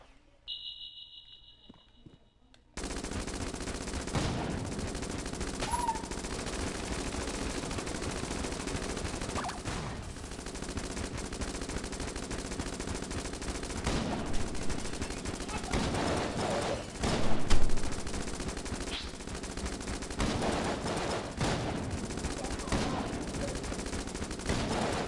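Rapid gunfire from the Heck Blaster in Enter the Gungeon, a dense, continuous stream of shots that starts abruptly and keeps going at steady loudness with a few sharper peaks, mixed with game effects.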